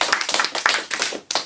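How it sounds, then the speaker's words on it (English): A handful of hands clapping in an uneven rhythm at a live podcast Q&A, close and brief, with a short pause before one last burst. "So we clap it up for the podcast one more time"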